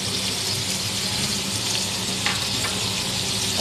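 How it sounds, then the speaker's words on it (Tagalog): Onion sizzles in hot oil in a pan while being sautéed, a steady close frying hiss with faint stirring scrapes and no talk. "Gisa-gisa natin yan."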